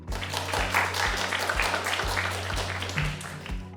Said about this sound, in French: Un peu d'applaudissements pour Juliette, s'il vous plaît.